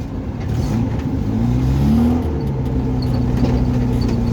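An old car that sat idle for eight years runs and drives with a steady, close engine drone that swells slightly mid-way, with light mechanical clatter and no talk.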